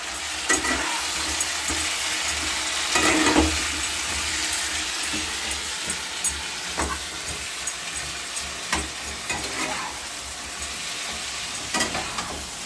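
Potatoes frying in a pan for aloo dum, a soft steady sizzle with occasional stirring scrapes and clinks, fairly quiet with no talking.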